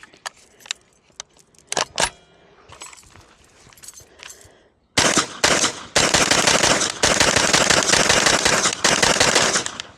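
A PSA AKV 9mm pistol with an ALG trigger fires in rapid, sustained strings of loud cracks after some metallic jangling and handling noises, each burst broken by short pauses.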